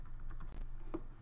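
Quick keystrokes on a computer keyboard as a name is entered into a search box, a brief close run of clicks over a low background hum.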